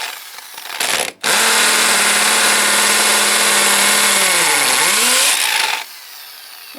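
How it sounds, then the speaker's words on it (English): Power drill boring through a brick wall to run PEX pipe for an exterior hose spigot, a loud sustained whine that holds steady for several seconds, dips in pitch near the end as the bit bogs, then stops. "If I'm drilling rock, I'll have a bucket of water here to cool the drill bit as I go."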